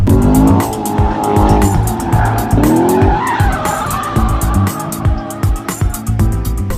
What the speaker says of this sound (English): this surface is not the best surface to do these kinds of launches on just because, well, it's very slippery